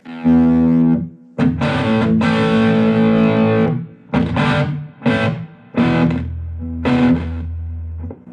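Electric guitar played through a Vox AC50CP2 valve amplifier with reverb, distorted chords and sustained notes in several bursts with short gaps, loud and upfront with no talking.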